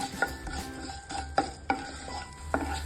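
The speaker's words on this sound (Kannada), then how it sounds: "ಸ್ವಲ್ಪ ಫ್ರೈ ಮಾಡ್ಕೊಳ್ಳಿ. ವಿತೌಟ್ ಆಯಿಲು ಫ್ರೈ ಮಾಡ್ಕೊಬಹುದು, ಬಟ್ ಆಯಿಲ್ ಹಾಕಿದ್ರೆ ಒಂಚೂರು ರುಚಿ ಜಾಸ್ತಿ ಅಂತ." Coriander seeds being stirred and fried in a little oil in a pan for donne biryani, with a spoon scraping and clinking against the metal in several sharp strokes over a soft, steady sizzle.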